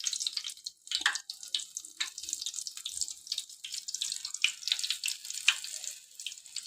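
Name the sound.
mirchi bhajji frying in oil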